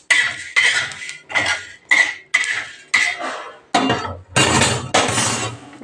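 Roasted coriander seeds, cardamom and cloves are pounded in a stone mortar: about nine sharp, clattering strikes in a steady rhythm, loud and close, with no talk.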